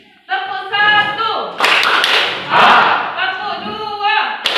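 A group of students in a chemistry classroom clap a short rhythm pattern together, loud broadband bursts of hand claps following a drawn-out voice call.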